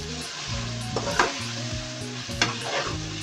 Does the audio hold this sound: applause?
no